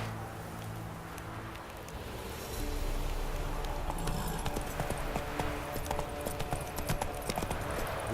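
Hooves of the horse Roach in The Witcher 3 clop at a slowing walk, a quiet, uneven series of soft strikes over faint wind, growing a little louder and denser midway before easing, with no speech.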